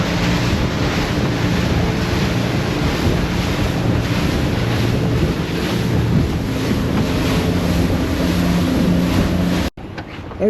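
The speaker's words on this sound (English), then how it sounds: "the wind is picking up" Strong wind buffets the microphone on a boat at sea on a choppy crossing to Bimini, with waves sloshing and roaring continuously beneath before an abrupt cut near the end.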